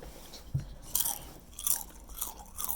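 Salt and vinegar potato chips are chewed close up, with a few sharp crisp crunches and bites followed by wet, smacking mastication over a few seconds.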